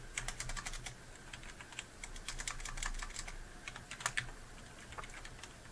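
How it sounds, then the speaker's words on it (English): Typing on a computer keyboard produces quick, irregular runs of soft clicking key presses, close and steady throughout, over a faint background hum with no talking. "I would have to type something here."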